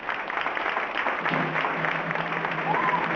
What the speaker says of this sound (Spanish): Les pido un aplauso también para ellos,